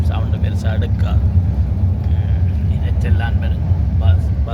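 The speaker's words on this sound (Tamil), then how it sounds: "இரைச்செல்லாம் பெரும் பஸ்ஸுன்ற இரைச்சல்." Steady low engine rumble and road noise heard from inside a moving bus, loud and continuous, with faint scattered sounds above it.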